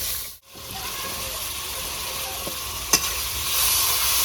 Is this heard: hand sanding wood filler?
no